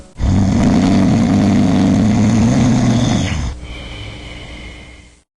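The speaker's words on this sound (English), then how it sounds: "Let's turn on the lights and see where the snoring is coming from." A sleeping person snores loudly in one long, rough, rumbling inhale that gives way to a quieter, airy breath before fading out.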